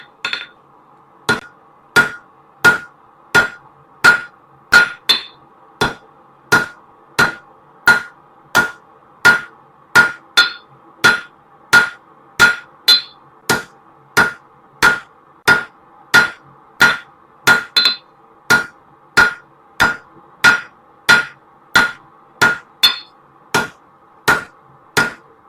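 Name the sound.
hammering hot metal on an anvil, forging an eye hook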